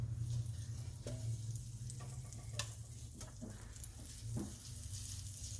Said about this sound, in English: And now I'm gonna put the butter on our skillet